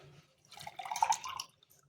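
Water is poured into a glass for a cool saffron and cardamom drink, a soft short trickle heard close up in a quiet kitchen.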